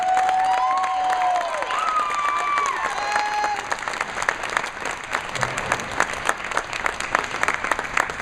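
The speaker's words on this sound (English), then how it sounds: "I think the crowd wants to go even more nuts" A packed crowd at a bowling tournament's scratch and handicap finals bursts into loud, dense applause with scattered cheers and whoops, rising at once and holding steady before easing slightly toward the end.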